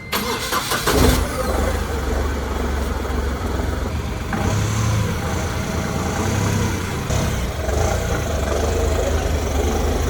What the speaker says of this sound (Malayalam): നമുക്ക് എന്തായാലും ഈ ലൈലാൻഡിൻ്റെ ഡീസൽ എഞ്ചിൻ്റെ സൗണ്ട് ഒന്ന് കേട്ട് നോക്കാം